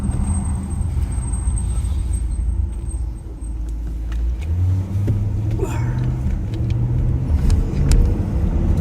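A car engine rumbles and accelerates as the vehicle pulls away, a steady low drone with brief squeaks over it.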